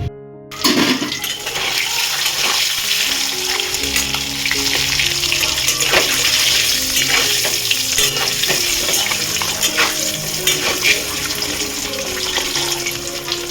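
Eggs seasoned with salt and turmeric frying in hot oil in a pan: a steady, loud, continuous sizzle with crackling spatter, close up and alone with no talk.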